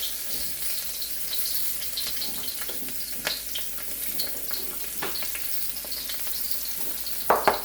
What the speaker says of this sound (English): Then we'll add the ginger and the garlic.